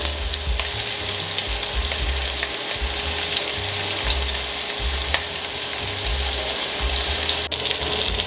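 Meat sears in a hot pan while being cooked for soup dumplings, a continuous loud sizzle and crackle of frying fat with no voices.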